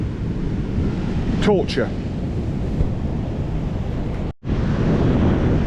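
Big seas pound a remote beach at Walcott, a steady broadband roar of surf mixed with wind buffeting the microphone, with a brief voice speaking over it partway through.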